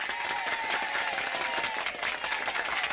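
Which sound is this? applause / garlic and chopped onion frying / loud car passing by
applause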